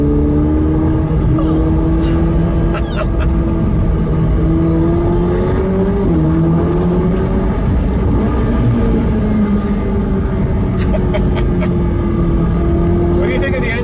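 A 2020 Ferrari F8 Tributo Spider's twin-turbo V8 drones continuously from inside the cabin while cruising, a steady engine hum that rises and dips slightly in pitch, with road rumble underneath.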